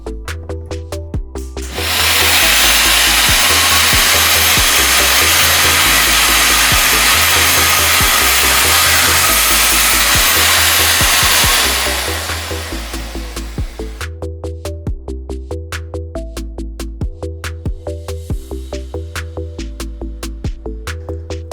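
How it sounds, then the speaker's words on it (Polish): A power drill bores holes for cam fittings in a cabinet panel using an RC System jig, giving a loud, steady whine for about ten seconds, with machine ticking before and after. "Zamykamy przystawkę, zakładam rurę i przystępuję do wykonania odwiertu."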